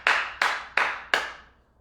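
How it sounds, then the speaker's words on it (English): Four sharp hand claps ring out close and loud, evenly spaced with short echoing decays, with no talk over them. "Clap for yourself."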